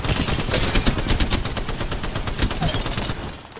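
Rapid automatic gunfire in Apex Legends, a dense string of sharp close shots in quick rhythm, loud and continuous, tapering off slightly at the end.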